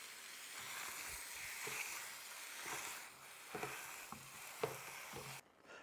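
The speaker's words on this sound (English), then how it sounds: "we're just going to brown it up right quick in this skillet" Lean ground meat browns in a skillet with a soft, steady sizzle, punctuated by occasional clinks and scrapes of stirring, fairly quiet and close, with a brief drop at the end.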